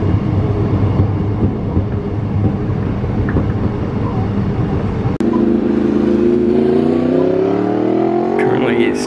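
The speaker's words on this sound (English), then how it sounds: "catching the train now" A train rides along the rails with a steady rumble, then a rising whine as it picks up speed.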